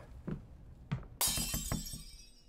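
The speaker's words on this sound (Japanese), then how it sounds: "なんか割れた" Something shatters in the horror video game Late Night Mop, a sudden sharp glassy crash preceded by a couple of soft thuds, followed by a scatter of tinkling fragments that quickly fade, heard alone at close range.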